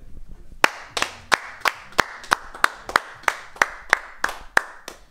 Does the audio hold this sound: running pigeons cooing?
no